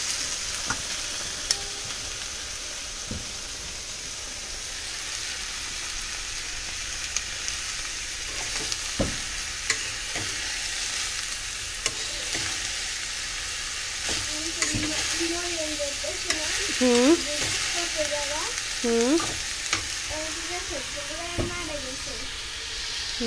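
Potato and ash gourd bhaji stir-fried in a pan, with a steady sizzle, scraping spatula strokes and a voice speaking in the background.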